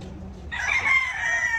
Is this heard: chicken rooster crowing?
yes